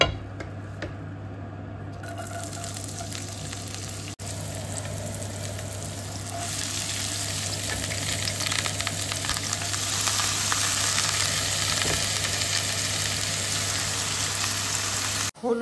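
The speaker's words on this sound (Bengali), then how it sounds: "ওর জন্য একটু আলু কুচি করে নিলাম ভাজি করার জন্য" Chopped potatoes fry in a pan with a steady broadband sizzle that swells louder partway through, under a constant low hum, with no talking.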